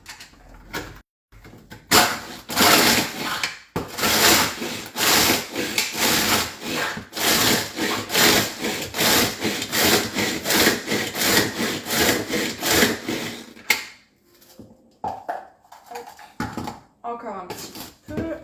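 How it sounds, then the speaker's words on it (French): Food chopper grinding speculoos biscuits into powder: loud rasping, whirring bursts in quick repeated pulses with brief pauses, close by, trailing off into softer rattles at the end, with a voice talking partly over it. "Donc là, on va réduire les spéculoos en poudre."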